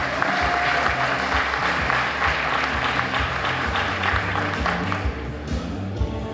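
A large audience at a teacher of the year event gives a teacher loud, sustained applause, dense and continuous, tapering slightly near the end.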